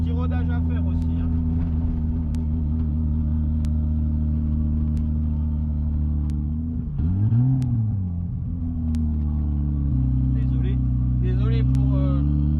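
A turbocharged BMW 325i E36 engine idles with a steady low rumble that dips and surges briefly midway before settling again, close by, with a voice speaking over it.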